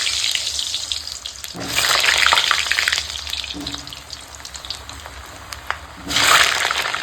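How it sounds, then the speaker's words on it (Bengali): Whole small potatoes fry in hot oil with a constant close sizzle that swells into two loud hissing surges, as if fresh batches hit the pan, with light stirring in between. "তেল গরম হয়ে গেছে আর আলুগুলোকে আমি ভেজে নেবো"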